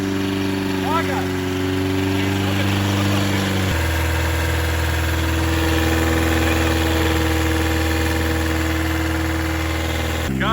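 A BMW M43 engine, in a car being run hard during a durability test, idles steadily and loudly with a constant low drone, a brief shift in pitch partway through, and no talk over it.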